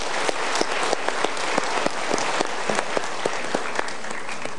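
An audience at a Mario Teguh seminar breaks into sustained applause, dense close clapping with sharp individual claps standing out.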